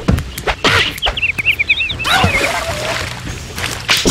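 Splash of a character plunging into water in the Hugo volcano-island PC game, heard as short watery splatters amid whooshes, chirpy cartoon effects and bursts of game sound, fairly loud and busy.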